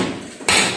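A hammer strikes the steel plate of a 14-ton CPO tank under construction, one sharp loud metallic hit landing midway after a quieter lead-in of workshop noise.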